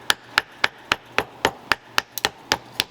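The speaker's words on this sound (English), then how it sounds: "hammer around the outside real good to get the outside edges" Steady metal hammer strikes on a tap-off tool pressed into leather for flower carving, about ten sharp, evenly spaced taps, close and clear with no talking.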